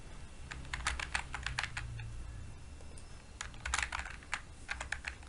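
A computer keyboard clatters in bursts of quick keystrokes as customer details are typed in, with short pauses between runs of typing, close and clear.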